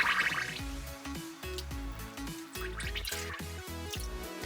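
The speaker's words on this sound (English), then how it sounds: "So just try to submerge the head in the water, in soapy water." A fursuit head pushed down into soapy bath water gives quiet gurgles, drips and sloshing pops in an irregular rhythm, close and fairly soft, with no talking.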